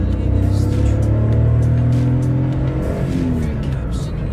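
A manual-transmission car engine accelerates hard while driving, a loud, close drone rising in pitch, with a gear change partway through and a brief voice over the top.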